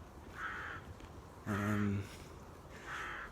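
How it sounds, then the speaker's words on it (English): Crows cawing outdoors on an autumn walk in Aberdeen, three separate harsh caws spaced about a second apart, moderately near, with no talking. "Doesn't it make a change to hear crows instead of seagulls?"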